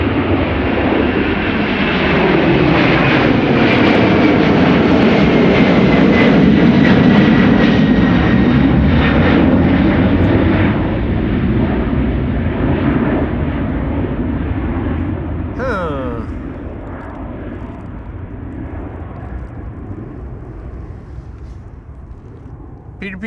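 United Airlines Boeing 767 jet airliner departing Amsterdam Schiphol, a powerful close engine roar swelling to a peak then gradually fading into the distance, with talking over it.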